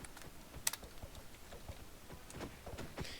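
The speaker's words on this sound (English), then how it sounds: "Sorry for my horrible typing." Quick, quiet clicking from a computer keyboard being typed on, with irregular bursts of keystrokes close by and no talk.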